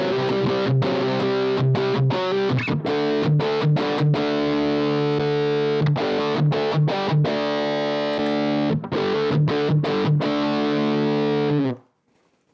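Heavily distorted electric guitar played through a Boss MT-2 Metal Zone pedal with its equalizer engaged, high gain, chugging palm-muted riffs with sustained chords, loud and continuous until it cuts off near the end.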